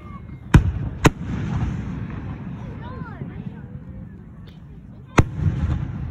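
Fireworks fire and burst outdoors as three sharp cracking booms, two close together at the start and one later, with whistling trails and crackle in between, mid-distance under faint background chatter.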